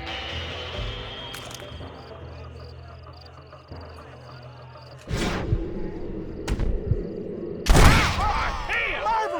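Gunfire in Red Dead Redemption, a Western shooter: a couple of sharp, loud shots ring out against ambient game sound, the last one the loudest and followed by a fading echo, with brief voices heard in between.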